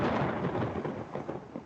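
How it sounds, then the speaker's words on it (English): Thunder from a thunderstorm played as a recording in an English textbook listening exercise on extreme weather, a deep rolling rumble that swells loudly at first and slowly fades, with no voices. "Yes, it's the season for thunderstorms."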